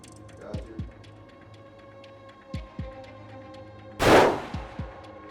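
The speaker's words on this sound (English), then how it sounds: "Shooting left target." Single loud rifle shot fired at a long-range target while antelope hunting in New Mexico, a sharp, heavy blast rising out of a quiet outdoor scene with a few soft thumps around it.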